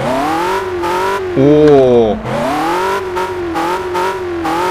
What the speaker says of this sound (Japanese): V6 エンジンはちょっと音がね低くなります。